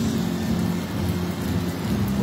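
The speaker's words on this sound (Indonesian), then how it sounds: "hujan turun dari langit disertai dengan gemuruh suara guntur" Heavy rain pours steadily across a district in Sinjai, a dense continuous wash of noise with a low rumble underneath suggesting distant thunder, no voices present.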